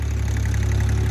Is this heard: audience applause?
no